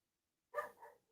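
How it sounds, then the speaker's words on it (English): A pet dog gives a single short, close bark with a brief trailing second yip, alone against silence. "My dog is going nuts."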